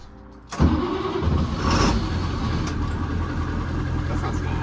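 A school bus converted into a skoolie cranks and starts with a loud burst, then settles into a steady, rumbling idle close by.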